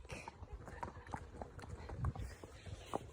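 Several horses' hooves clip-clop on a group hack in an irregular, overlapping rhythm, moderately close, while people talk over them.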